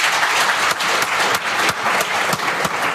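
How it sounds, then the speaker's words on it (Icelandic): Steady, dense applause from an audience thanking a group after an Icelandic school presentation on education for children of foreign origin, close and continuous with sharper individual claps popping through. "þá vil ég bara byrja á því að biðja ykkur að klappa vel fyrir hópnum"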